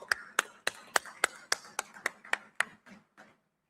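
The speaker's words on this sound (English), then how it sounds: "A huge round of applause, ladies and gentlemen." About a dozen sharp, evenly spaced claps ring out at a groundbreaking ceremony, crisp and fairly close, slowing and fading toward the end with no talk over them.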